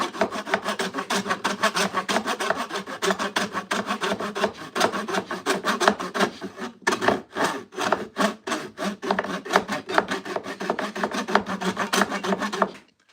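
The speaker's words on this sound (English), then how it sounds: "I'm still fucking trimming down the same dowel." Hand tool rasping and shaving down a wooden dowel, a rapid run of scraping strokes in steady rhythm, close and fairly loud, with one brief pause midway.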